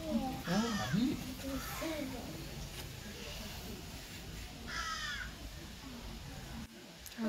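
Crows caw several times at a zoo, loud and close in a few harsh bursts, while children and adults chatter nearby.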